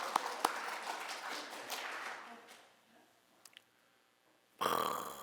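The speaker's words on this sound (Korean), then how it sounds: "이건 박수 쳐야 돼요." A church congregation claps during a Sunday service, a faint, distant spatter of applause that thins out and fades within a few seconds, followed by quiet and then a sudden louder burst of sound at the end.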